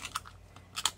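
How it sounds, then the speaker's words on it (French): A corner cutter clipping excess paper at a corner, two sharp crisp snips with a light crunch, close and quiet, no talk. "je découpe l'excédent de papier"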